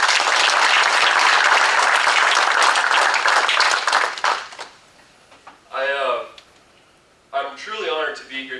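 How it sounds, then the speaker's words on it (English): An audience at a chamber of commerce breakfast held at a country club bursts into loud, dense applause that lasts about four seconds and fades out, followed by a pause and then short stretches of talk. "let's just give them a round of applause"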